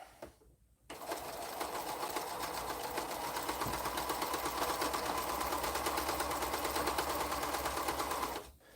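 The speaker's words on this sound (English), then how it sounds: "And I'm going to sew this one, and then I'm going to sew the bottom of the teeth back on." A sewing machine sews along a strip of fabric, a steady rapid mechanical chatter running close and continuous for several seconds after a brief quiet start, then stopping.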